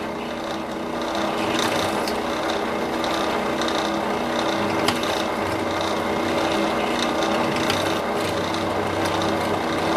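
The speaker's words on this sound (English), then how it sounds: "drill your holes" Holes being drilled into a homemade alcohol stove, a continuous grinding, rasping drill sound that stays steady and close for the whole stretch, with no talking.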